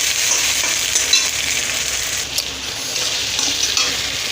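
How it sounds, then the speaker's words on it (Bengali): Chopped tomatoes fry in a pan for a soybean and potato vegetable curry, giving a steady, loud sizzle with occasional scraping stir sounds, close up and with no talking. "এবার দেবো কেটে রাখা টমেটো তো টমেটোটাকে ভালো করে ভেজে নেবো যতক্ষণ না নরম হয়ে যায়"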